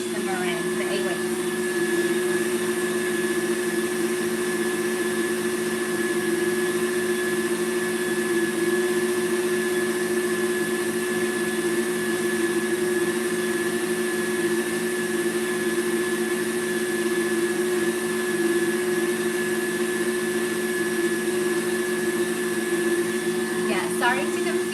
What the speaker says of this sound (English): I feel like I have to whisk fairly fast in order to get this to catch the meringue